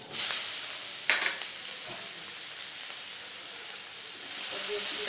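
Chopped garlic and onion sizzle in a hot pan for a fish curry, a steady moderately loud hiss with a brief stirring clatter near the start.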